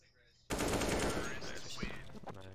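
Loud burst of automatic gunfire in a Counter-Strike match on the Mirage map, starting abruptly after a quiet lead-in and rattling on close and dense to the end, with faint talk beneath.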